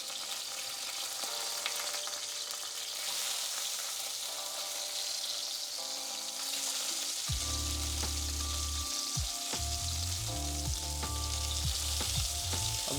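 Chicken frying in a pan over a medium flame while white sauce pasta is being made, giving a steady sizzle and crackle throughout, with a low rumbling layer and some clinks joining in partway.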